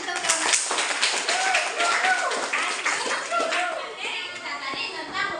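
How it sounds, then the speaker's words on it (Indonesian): An audience claps for a classroom presentation on Archimedes' principle, a steady patter of many hands that starts strong and gradually thins, with voices chattering underneath. "Beri aplaus untuk"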